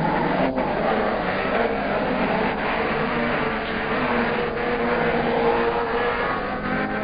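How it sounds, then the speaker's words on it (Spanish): Race cars roar steadily along a racing circuit, a dense, loud engine drone that stays constant for several seconds with no voices. "Venían firmes los autos de adelante, tanto el de Mouras como el de Castellano"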